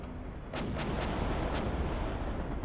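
Missile strikes on a slow support ship in the HighFleet game: a rapid series of sharp, booming impacts, three or four close together, over a steady roar of battle noise, with no talking.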